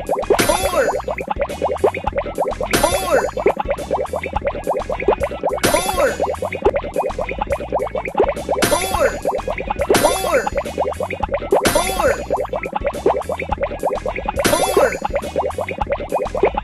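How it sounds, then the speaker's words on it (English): Bubbles popping in a kids' preschool math video game: repeated bright boing-like pops recur every few seconds over continuous cheerful game music. "Pop all the bubbles with the number"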